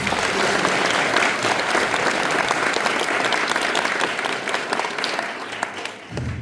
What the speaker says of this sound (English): big round of applause for everyone who made